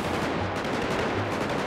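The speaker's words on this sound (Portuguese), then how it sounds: "tomou tiro de 12, velho" Shotgun gunfire in the GTA 5 roleplay video game, a dense, loud stretch of rapid blasts and crackling shots with no pauses.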